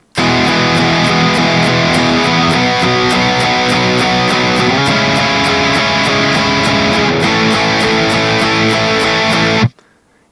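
A 1-5-6-4 progression of major and minor triads (major 1, major 5, minor 6, major 4) plays loud and sustained with a buzzy, effected tone, ringing steadily for about nine seconds before cutting off abruptly.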